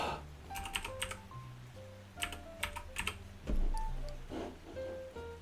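Fingers tap away at a computer keyboard in quick irregular bursts, crisp close-up clicks separated by brief pauses, with a low hum underneath and no speech.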